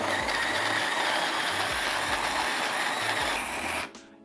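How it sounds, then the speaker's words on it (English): Hario Smart G motorized hand coffee grinder running steadily up close with a low rhythmic whirring pulse, then cutting off abruptly near the end. "with one press of the button on the motor, it will begin grinding"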